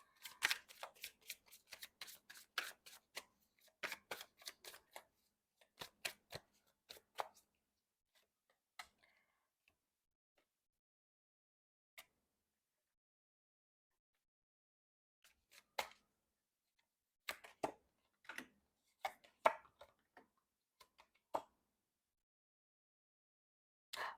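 Tarot cards are shuffled by hand in quick bursts of crisp riffling and flicking snaps, quiet and close, with a pause in the middle before another round of shuffling.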